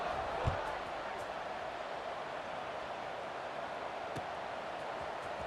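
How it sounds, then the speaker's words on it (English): A football stadium crowd at a Notre Dame–Duke game keeps up a steady, dense roar after a score, with a few sharp thumps cutting through the constant wash of noise. "this crowd is buzzing after that last score"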